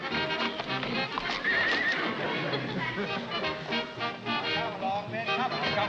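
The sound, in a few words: horses neighing and hooves clip-clopping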